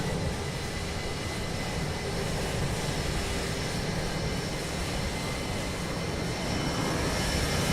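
A Transavia airliner takes off in Microsoft Flight Simulator 2020, a steady, loud engine roar that holds at an even level throughout with no talking.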